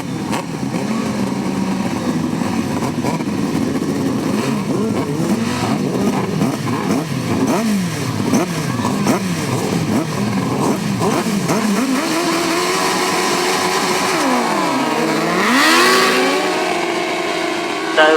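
Grasstrack sidecar motorcycles race at the 2006 Capel Classic, several engines howling and revving loudly and continuously as the pack goes past, with one climbing in pitch near the end and a commentator talking over the roar.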